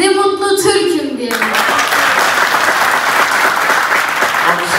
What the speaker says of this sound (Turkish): Alkışlar veriyoruz seni.